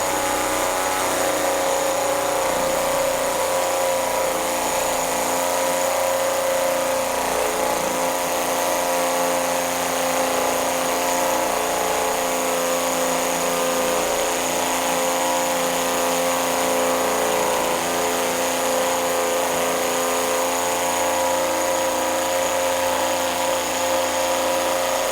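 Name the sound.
Worx cordless hammer drill drilling into brick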